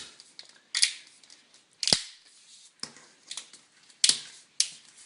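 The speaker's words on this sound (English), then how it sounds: "you must make sure you're clicking it together all the way down the length of the seal" Plastic Uniblade shower screen seal being clicked together along its length, giving a series of sharp, separate snapping clicks at irregular intervals, close and fairly loud with no talking.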